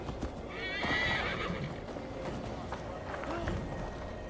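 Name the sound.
horse summoned as mount, galloping, in Assassin's Creed Valhalla video game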